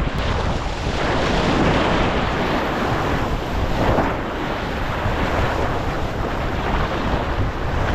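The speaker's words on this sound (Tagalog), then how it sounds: "Mahangin." Strong wind buffets the microphone in a constant roar, with surf and open water noise underneath, no talking.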